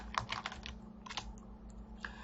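Computer keyboard being typed on while entering JavaScript code: a quick cluster of close, soft key clicks, then a pause and a couple more isolated taps over a steady low electrical hum.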